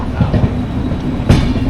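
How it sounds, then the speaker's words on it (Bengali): Inside the Sealdah–Puri Duronto Express pulling into Puri station, a loud low rolling rumble of the carriage with wheel clicks and one sharp clank near the end. "এখন ট্রেন আমাদের ঢুকলো পুরীতে"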